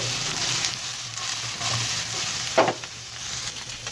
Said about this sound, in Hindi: बीफ को भी हम इस तरह से हिला हिला कर रोस्ट कर लेंगे।